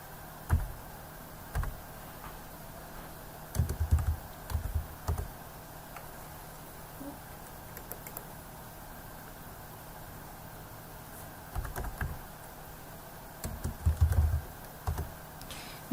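Quiet clusters of keyboard typing, short bursts of clicking keys separated by pauses, close by against a faint steady hum.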